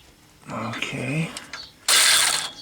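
A ratchet fitted with a 13mm socket loosens tight nuts on a car engine, giving short mechanical clicking and grinding with a louder rasping burst near the end. Someone talks over the first part.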